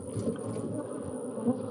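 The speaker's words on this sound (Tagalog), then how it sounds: "Nagkakalipumpon ang mga insekto sa dingding at bubungan ng kubo." A swarm of bees buzzes steadily around the wooden walls and roof of a hut, a dense, continuous drone at moderate volume with no talking.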